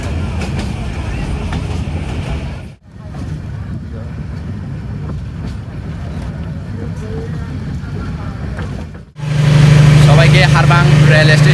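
Train journey from Chittagong to Cox's Bazar: a continuous rumble and rushing wind-like noise of the moving train, interrupted by two brief near-silent cuts, ending with a louder, steady droning hum, with voices talking over parts of it.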